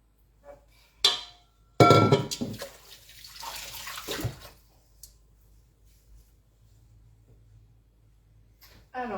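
Water runs from a tap for a quick sugar syrup in a kitchen, a short rushing pour lasting about two seconds after a couple of clicks and knocks, then quiet.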